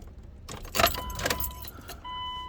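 Keys jangle and rattle as they are pulled from the ignition of a 2001 Dodge 1500 4x4 pickup, a cluster of close metallic clinks followed by a steady electronic chime from the truck.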